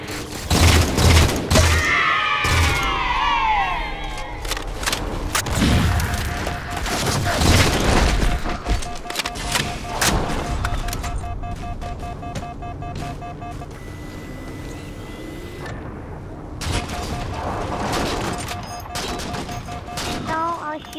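Gunfire in the video game Halo 4 crackles as rapid, loud bursts and booms throughout a busy battle, layered with engine-like hum and other game effects.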